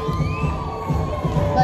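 Audience at a show in a Mexican resort venue cheering and shouting in a brief, dense burst of crowd noise, with some voices rising above the general din.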